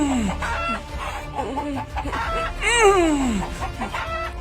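Cartoon chickens squawk and cluck loudly in a frantic run of calls, with one long, rising and falling squawk standing out near the middle.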